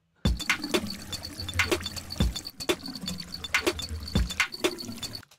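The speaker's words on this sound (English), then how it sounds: "Water." Water splashes and drips in irregular bursts, close and fairly clear, with sharp liquid plops over a soft running background.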